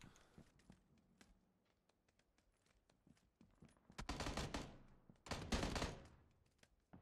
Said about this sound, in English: somebody shot somebody above us, and it sounded like it was me